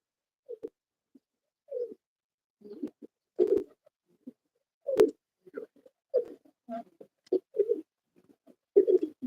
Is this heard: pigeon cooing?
yes